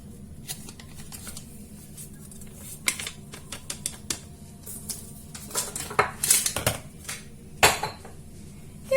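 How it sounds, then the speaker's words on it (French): Flour and baking powder sifted through a sieve in a home kitchen, heard as irregular light rattling taps and clinks, some sharp and close, over a low background hum. "Et on va tamiser."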